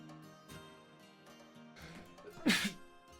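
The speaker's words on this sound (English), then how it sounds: "Oh, that sneeze really hurt." A single short sneeze bursts out near the end over faint background sounds from a Conquest of Elysium 5 strategy game.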